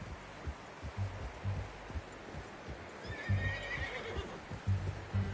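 A horse in the Red Dead Redemption 2 video game whinnies once, with a fluttering neigh in the middle of the clip, over steady clip-clop hoofbeats and a low rhythmic thumping of game sound.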